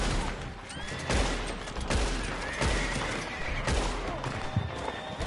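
Video game gunfire in an online Western shootout, a dense stretch of repeated gunshot cracks over a continuous noisy battle background, with faint horse sounds mixed in.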